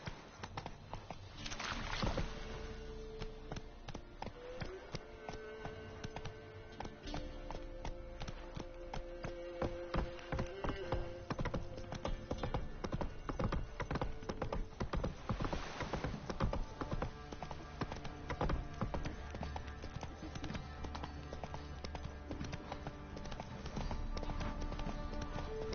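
Horse hooves clop at a quick, steady rhythm in The Witcher: Wild Hunt, with tapping footfalls running continuously over game sounds at a moderate level.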